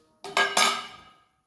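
A spoon mixes food in a metal vessel, making two or three quick bright clinks and scrapes that ring briefly and fade within about a second.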